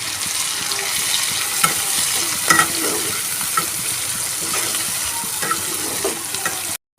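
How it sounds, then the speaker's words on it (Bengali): Onions sizzle steadily in a hot pan, with occasional scrapes and clinks of stirring over the constant crackle. "পেঁয়াজটা আমার হালকা হালকা ভাজা হয়ে গেছে"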